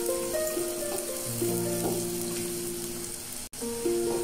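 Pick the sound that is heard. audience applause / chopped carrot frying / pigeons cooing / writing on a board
chopped carrot frying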